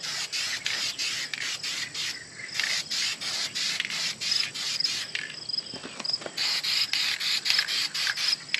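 Silver hammer tone spray paint hisses onto a pitted 1940 Mercury bumper in short repeated bursts, a close, steady aerosol spray with brief pauses between passes.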